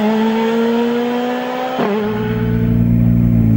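Rally car leaving a stage start at the 2012 Rallye 1000 Miglia, close and loud, its engine revving high, then dropping as it shifts and pulls away.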